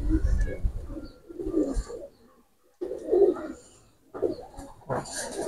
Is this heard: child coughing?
no